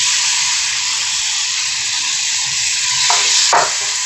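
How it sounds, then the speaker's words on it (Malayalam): Chopped tomato sizzles in hot masala for kothu parotta, a loud, steady frying hiss throughout, with a couple of sharper bursts of spatter near the end and no voices. "ആ മസാലയുടെ പച്ച ചുവ മാറുമ്പോഴേക്കും 1 തക്കാളി ചെറുതായിട്ട് അരിഞ്ഞത് ഇതിലേക്ക് ഇട്ട് കൊടുക്കാം."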